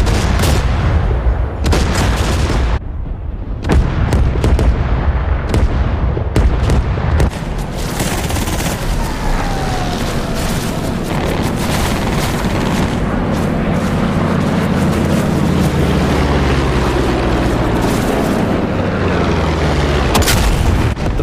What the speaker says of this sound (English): Tsurubashi is opening fire.